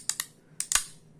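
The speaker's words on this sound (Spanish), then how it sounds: "ahí sonó un clic, ahí se activó el contacto" A refrigerator's no-frost defrost timer clicks as its contacts switch: four sharp, dry clicks, two close together and then a pair a moment later, close by in a quiet room.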